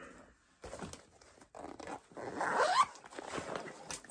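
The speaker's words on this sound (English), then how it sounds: "Zip." A clothing zipper drawn in several quick, scratchy pulls, close and fairly loud, with brief pauses between the strokes and the longest, densest pull in the middle.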